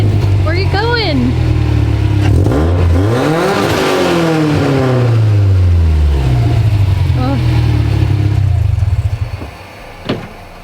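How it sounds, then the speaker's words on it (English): Engine of a Series Grey Subaru STi with a damaged wheel, loud and close, revving up and falling back several times, with rising and falling sweeps over a rumbling idle before cutting off near the end, while people talk nearby. "Even with a fucked up wheel, she still revs high."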